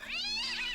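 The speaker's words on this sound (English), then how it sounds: "suddenly the sound of a cat's meow echoed" A single short cat meow, clear and close, rising and falling in pitch and used as a sound effect in a horror narration, heard alone.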